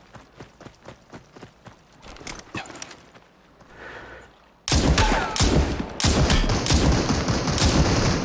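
Rapid AR gunfire in a shooter video game, a loud dense burst erupting after quieter scattered shots and bumps, continuing steadily to the end.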